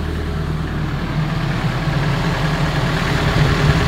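A hydraulic rig heater runs and blows hot air, a steady, close engine-like drone with an airy rushing layer that builds slightly over a few seconds, no voices.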